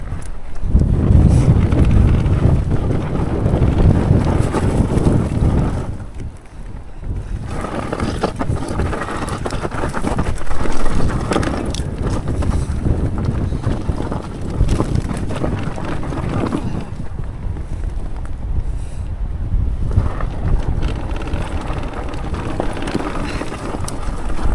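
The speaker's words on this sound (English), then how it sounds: "wow, it's windier than the last time we come down" Strong wind blowing outdoors on a steep wooded hillside with fallen trees, roaring and buffeting the microphone in loud, continuous gusts that ease briefly before surging again.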